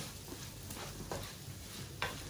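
Raw banana curry cooking in a pan, a soft steady sizzle with a few brief scraping stirs near the end, close and fairly quiet, no talking.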